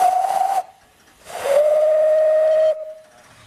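Steam whistle of the broad gauge replica locomotive Iron Duke: a loud, clear shrill tone with hissing steam, sounding once briefly, then again in a longer sustained blast before cutting off.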